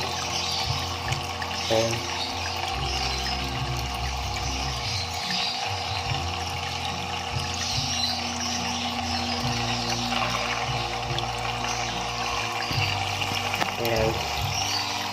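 Water from an upgraded FL-401A hang-on-back aquarium filter runs as a steady trickle and splash throughout, with a low pump hum beneath, while a person talks briefly over it.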